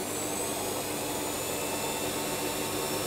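A power tool chamfers the edge of a pipe that has four slots already cut in it, making an intermittent cut as it passes each slot. A steady, loud, broadband whirring drone plays alone throughout.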